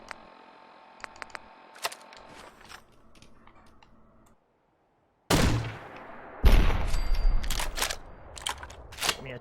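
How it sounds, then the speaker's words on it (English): A grenade blast and gunfire in the Fallout 4 video game: faint clicks and small shots first, a brief silence, then a loud explosion followed by a sharp burst of shots. "I'm gonna use a grenade for this."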